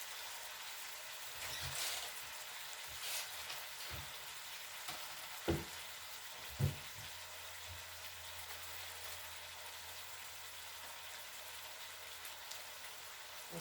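Lamb curry with garlic and ginger sizzling in a pan, a soft steady crackling hiss that runs throughout, with a few faint knocks of a utensil.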